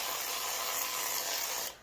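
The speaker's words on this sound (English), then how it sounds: "I'm going to spray the cling wrap" A cooking spray can hisses continuously onto cling wrap laid over a bowl of bread dough, a close, steady spray lasting under two seconds that cuts off sharply, with no talk.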